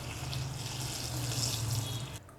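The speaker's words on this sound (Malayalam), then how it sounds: "ഇനി വെള്ളം ഒഴിച്ചിട്ട് 3-4 പ്രാവശ്യം കഴുകിയെടുക്കാം" Ivy gourds are washed under steady running tap water in a sink, a continuous close splashing that stops abruptly near the end.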